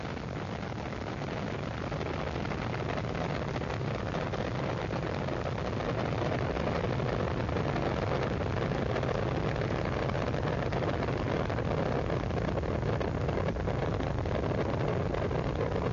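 Space Shuttle Discovery's engines roar during the STS-96 launch ascent, a continuous broad, heavy rumble heard from a distance, steady and unbroken for the whole stretch.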